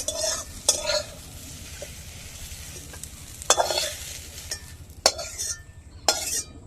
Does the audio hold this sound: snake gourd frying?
yes